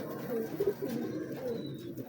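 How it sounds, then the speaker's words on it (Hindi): Fine-legged teddy pigeons coo softly nearby, a few short, low murmuring calls over a quiet background. "बारीक नलियों के कबूतर हैं"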